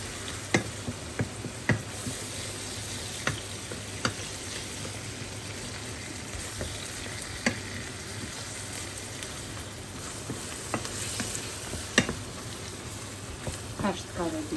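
Chopped onion and a spoonful of flour fry in oil in a pan with a steady close sizzle, broken by occasional sharp scrapes and taps of stirring.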